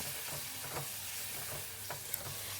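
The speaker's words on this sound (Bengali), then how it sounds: "এবার আমি এটা একটু নাড়াচাড়া করে নেব" Chilli and turmeric powder stirred in a pan over a low flame, a steady soft sizzle running throughout with repeated scraping strokes of the spoon, close and alone.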